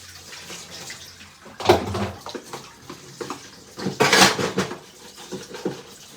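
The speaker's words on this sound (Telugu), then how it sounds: "water bottles compulsory daily daily నీట్గా కడిగేసి పెట్టేసి" Water bottles being washed under running water, with a steady splashing stream broken by louder gushes and the knock and scrape of plastic, heard close.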